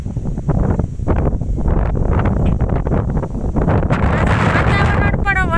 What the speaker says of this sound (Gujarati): એટલો ફૂલ પવન ફૂંકાયેલો